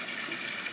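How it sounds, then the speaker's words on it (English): Water splashes steadily back down into a reservoir holding bags of decomposing green biomass and kitchen discards, a continuous soft hissing trickle with no talk. "the water returns down to the reservoir, where we've got bags of our green biomass"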